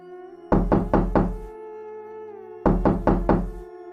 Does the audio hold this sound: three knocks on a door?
yes